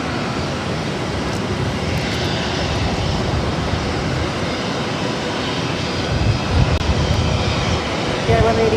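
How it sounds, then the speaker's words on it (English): A Korean Air Boeing 777-300ER jet waits on the runway at Boston Logan, its engines a steady, broad rumble that swells slightly toward the end. "Korean Air 777-300ER heading to Seoul, lined up for takeoff on 22 left"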